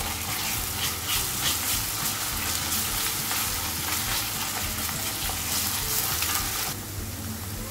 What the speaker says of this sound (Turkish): Karabiber, pul biber ve nane ekleyerek tekrardan karıştıralım.